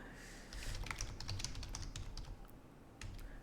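Rapid typing on a computer keyboard, close and fairly loud, with irregular clicking keystrokes in bursts and brief pauses.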